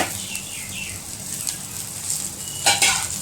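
Pirandai (adamant creeper) stir-fried with shallots in a pan at home, a steady sizzle and crackle with scraping stirs, louder spatter near the end, no talking.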